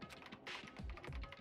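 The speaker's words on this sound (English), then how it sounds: "Kyoko's fingers glided across the keyboard." Fast, close typing on a computer keyboard: a dense run of crisp key clicks with a few heavier thumps mixed in, and no voices.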